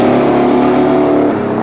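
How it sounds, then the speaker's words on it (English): A loud, rumbling big-block V8 engine in a 1970 Chevrolet Chevelle holds a deep, steady growl close by, its pitch rising slightly before easing off at the end. "the big blocks have like their own sound"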